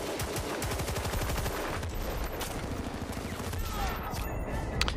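G3 rifle gunfire in Battlefield Bad Company 2, a dense, loud fusillade of rapid shots layered with other battle gunfire, continuous and crackling over the whole stretch.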